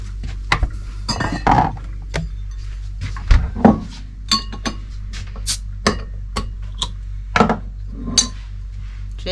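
Glasses clink in a toast aboard a narrowboat: a series of bright, separate chinks and taps, some paired and some single, spread irregularly across a quiet background with no talking.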